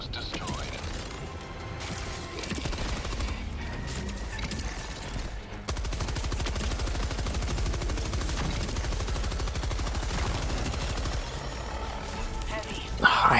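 Automated sentry turret firing in the video game Helldivers 2, dense rapid bursts of gunfire with mechanical clatter, loud and continuous through most of the stretch amid other battle noise.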